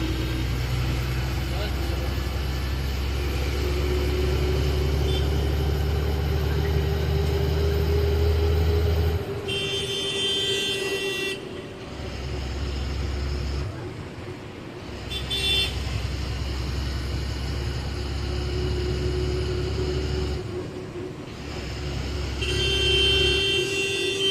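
Steady low engine rumble from inside a moving bus bound for Jalna, with traffic noise around it, a few car horn toots and voices talking over the drone.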